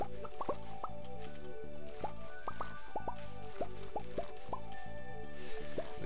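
A watering can splashes crops in the Stardew Valley farming game, with a quick run of soft, evenly spaced drips and plops over steady background music.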